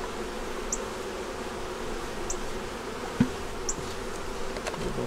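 Honeybees buzz steadily in an opened eight-frame double-deep hive, with a continuous close drone, a few faint high chirps and one brief knock.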